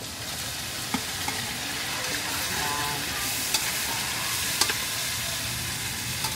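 Tomatoes sizzle and fry steadily in a pan with browned onion and garlic for pakbet, a dense continuous crackle with a few light utensil taps, close and alone.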